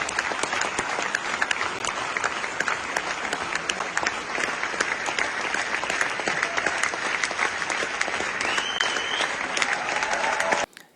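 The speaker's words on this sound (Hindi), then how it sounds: "श्रोताओं ने खड़े होकर जोरदार तालियों से सराहना किया" An audience at a Zurich film festival screening rising in a standing ovation, dense sustained loud applause for about ten seconds before cutting off abruptly.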